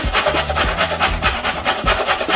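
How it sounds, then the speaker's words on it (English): A carrot is rubbed down a hand grater in quick, even rasping strokes, about four or five per second, close and loud throughout with no talking. "Just gonna run it down the grater."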